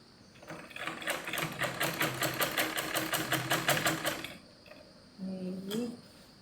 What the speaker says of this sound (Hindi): ये वैसे ही मोहरी पकड़ी और ये सिल ली।